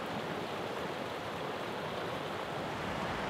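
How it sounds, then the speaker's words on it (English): Jumping Pound Creek running with tan spring runoff, a steady dense rush of flowing water filling the whole clip at an even level, with no voices. "And Jumping Pound itself was flowing with a little bit of a tan color from runoff."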